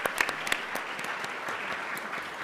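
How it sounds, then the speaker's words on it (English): A symposium audience at Berkeley Law claps for a panel, a dense, steady round of applause filling the room, loud and sustained throughout. "a final round of applause for our amazing panel"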